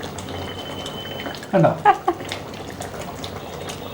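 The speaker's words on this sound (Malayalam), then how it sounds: "അതിനകത്ത് ആനക്കണ്ണൻ തിള തിളച്ചുകൊണ്ടിരിക്കുകയാണ്" Wheat payasam bubbles and boils in a pot in a Kerala kitchen, giving a steady low seething under a few brief louder pops and a short spoken word.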